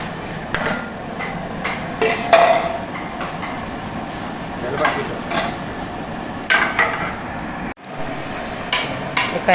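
Boondi being stirred into sugar syrup in a pot for wedding laddu, the spoon knocking and scraping against the metal in repeated clanks over a steady background rumble, with faint voices now and then.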